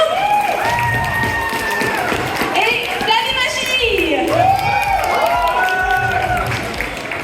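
An audience at a cosplay event applauds and cheers for the judges, clapping steadily beneath a loud presenter speaking over it, with excited high-pitched shouts and cries rising through the crowd noise.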